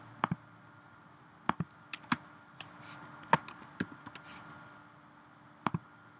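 Sparse keystrokes on a computer keyboard, a few isolated taps and short double clicks spread out with pauses between them, close and fairly quiet against a faint background hum.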